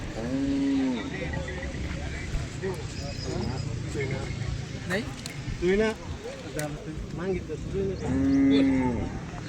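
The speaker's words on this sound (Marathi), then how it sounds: "शेतकऱ्याचे गोरे. करसगावचे गोरे." Bullocks low repeatedly at a cattle market in Chalisgaon, deep drawn-out moos rising over a noisy crowd, with people talking throughout and several animals calling near and farther off.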